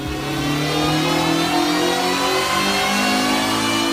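A Volkswagen Scirocco race engine built with JE pistons revs hard toward its 8,500 RPM limit, a loud, continuous, crisp mechanical howl with pitch sweeping up and down, close and alone without voices.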